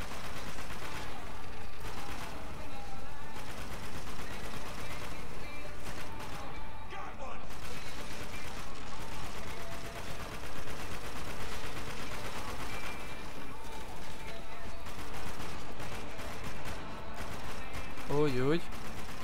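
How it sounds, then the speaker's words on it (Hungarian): Gunfire in the video game Spec Ops The Line, dense and continuous combat noise with rapid shots and crashes that runs throughout, with someone talking over it in places. "Már kezdjük el lövöldözni."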